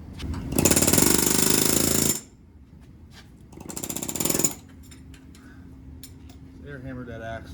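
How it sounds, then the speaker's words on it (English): An air hammer rattles hard in two long loud bursts against the axle at the transfer case of a 2016 Chrysler 200, close and harsh, with quieter workshop clinks and a voice in between. "Air hammered that axle off just by tapping right here."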